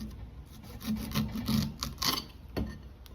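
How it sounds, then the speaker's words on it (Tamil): Knife trimming the stem ends off a raw plantain for bajji, heard as a few close, soft rasping cuts and scrapes in short bursts, with no talk. "ரெண்டு சைடும் காம்பை கட் பண்ணிடலாம்"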